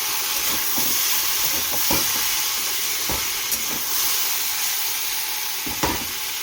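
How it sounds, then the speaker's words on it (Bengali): A pot of meat curry simmers with a constant hiss and steam, punctuated by occasional soft bubbling pops and light taps. "এখানে মাংসের ঝোল ফুটছে, হয়ে গেছে।"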